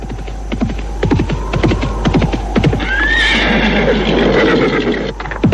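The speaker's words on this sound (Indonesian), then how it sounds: "Sementara itu Rawedeng dan teman-temannya tetap duduk di atas punggung kuda di tengah jalan" Horses neigh and whinny over steady clip-clop hooves in an Indonesian radio drama, with a constant mains hum underneath; hoofbeats run throughout and a whinny rises near the middle.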